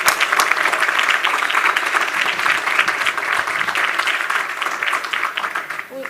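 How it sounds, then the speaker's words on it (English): An audience applauds teachers at an education awards evening, dense sustained clapping from a crowd filling the room for several seconds before fading slightly at the end. "give your applause or congratulations for teachers"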